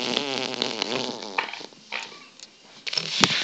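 A voice imitates a fart with a buzzing, sputtering blat lasting about a second and a half, followed by softer breathy noises and a brief sharp click.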